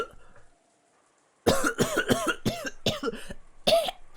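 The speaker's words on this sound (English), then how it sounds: "she can't stop coughing anymore." A girl coughs during an asthma attack in the Umineko visual novel: after a short hush, a rapid run of harsh, close coughs follows, several in quick succession without a break.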